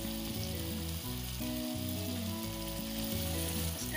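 Readymade biryani masala with tomato sauce fries in a pan and is stirred, giving a steady, dense sizzle throughout with soft stirring beneath, close and alone.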